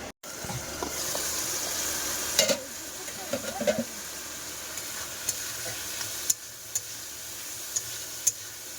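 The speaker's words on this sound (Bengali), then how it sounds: "সব মশলা দিয়ে একসাথে কষাই করে নিলাম" Mixed spices sautéed together in a pan: a steady sizzle close by, with scattered clicks and taps of a spoon against the pan, fairly quiet and with no voices.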